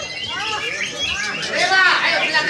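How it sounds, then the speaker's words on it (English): Lovebirds at a songbird competition in Surabaya, Indonesia, chirp in rapid high twittering bursts, loud and close, over a busy crowd murmur with voices nearby. "Earlier on we had the green leaf bird, and now we have lovebirds."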